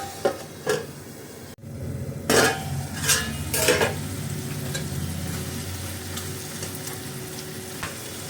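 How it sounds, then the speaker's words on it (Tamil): Chicken sautéing in a pan for methi chicken, a steady sizzle punctuated by several sharp clatters of a utensil against the pan early on, then continuous frying with a few light taps, close, no speech. "சிக்கன் போட்டுக்கலாம் கொஞ்சம் வதங்கட்டும்"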